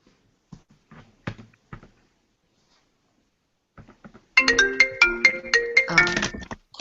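An incoming call rings on a mobile phone: a few faint scattered knocks and clicks, then a loud melodic ringtone bursts in partway through and plays on as a bright repeating tune, with no talking.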